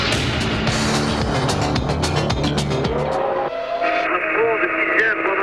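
Williams-Renault Formula 1 car on an onboard lap of Imola at the 1993 San Marino Grand Prix: a loud, high-revving engine screams through rapid gear changes, then drops to a lower tone as a voice talks over it.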